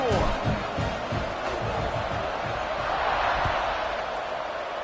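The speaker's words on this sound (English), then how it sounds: "this crowd is buzzing after that last score" Stadium crowd buzzing after a score in College Football 26, a loud sustained roar of cheering fans with scattered thumps, a commentator's voice faintly layered over it.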